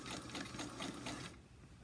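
Sewing machine stitching and backstitching fabric, a quiet rapid mechanical whir with ticking pulses that runs for over a second, then stops.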